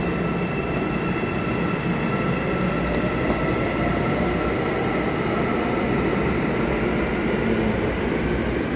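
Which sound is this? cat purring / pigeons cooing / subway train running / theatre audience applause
subway train running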